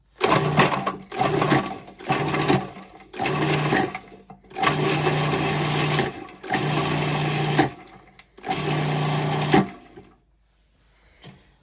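A blender pulses African blue basil pesto in several short bursts of loud motor whirring separated by brief pauses, the last burst stopping into quiet.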